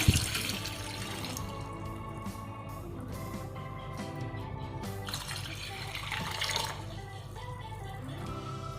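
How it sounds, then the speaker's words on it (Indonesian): Water is poured into a pot of jengkol balado as it cooks, a continuous close splashing and trickling stream that runs steadily throughout. "Tambahkan air secukupnya ya."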